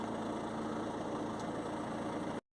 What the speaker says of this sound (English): Just started the engine and then it's come on.